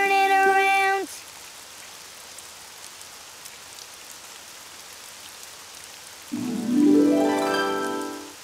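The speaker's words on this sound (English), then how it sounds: "Oh, it's raining outside." Rain falls outside as a soft, steady hiss, heard alone in the quiet gap between bright tonal musical phrases at the start and end.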